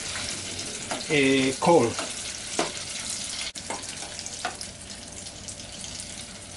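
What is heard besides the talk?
potatoes frying in hot oil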